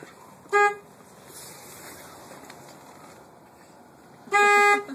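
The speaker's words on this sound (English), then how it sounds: "You want to honk?" A big truck's horn gives two loud, short honks, one near the start and a longer one near the end, over quiet cab background noise.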